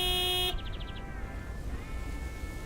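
Big, white truck horn sounding a sustained, loud honk that stops after half a second, then a few quick short toots and a lingering fainter tone afterward.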